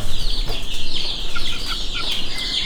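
A rooster clucks softly in a short run of low calls, with other chickens faintly around it, over a steady background hiss.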